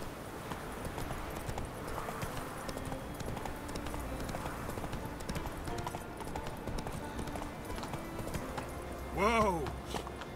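Roach, a horse in The Witcher 3, gallops with rhythmic clip-clop hooves at moderate volume, joined near the end by a short whinny, while someone talks over it.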